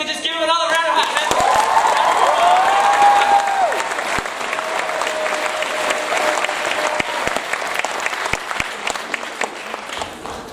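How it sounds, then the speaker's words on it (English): Crowd applauding and cheering at a Pacific Islander student cultural performance night, sustained loud clapping with whoops and a rising then falling shout early on, continuing for about ten seconds. "If everyone could just give them another round of applause."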